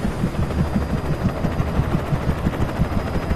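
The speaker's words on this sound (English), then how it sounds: "Oh, that's a helicopter." A helicopter in the video game Alan Wake passes overhead, its rotor thumping in a steady rapid rhythm, loud and close, with a dense engine roar beneath.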